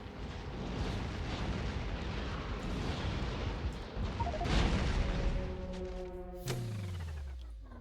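Gunfire in Factorio destroys a cliff on the volcanic planet Vulcanus, a rumbling barrage of crumbling booms and crashes swelling midway, then fading into a lingering descending tonal ring.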